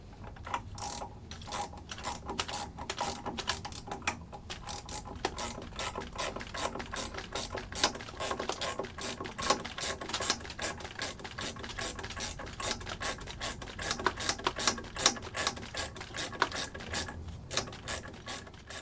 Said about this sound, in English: Go ahead and grab our 9/16. Start winding it in.